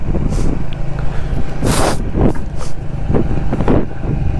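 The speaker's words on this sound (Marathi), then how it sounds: "ओके आर्मीची गाड्या" Army vehicles pass along a road on a cold morning during a long-distance motorbike ride, their engine rumble rising and fading in several close swooshes over steady wind buffeting the microphone.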